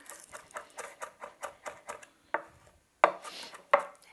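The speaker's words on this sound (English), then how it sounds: "we're going to mince our 2 cloves of garlic" A knife mincing two garlic cloves on a cutting board: a steady run of close, crisp chopping taps, followed by a few louder separate chops after a short pause.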